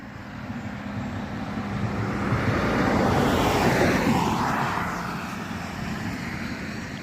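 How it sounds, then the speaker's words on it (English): A car drives past a one-room schoolhouse in a quiet rural setting. The engine and tire hum swell to a peak midway and then fade away, alone and with no talk. "As soon as this car goes by, I'll do a pan for you."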